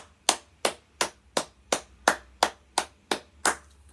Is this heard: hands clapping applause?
yes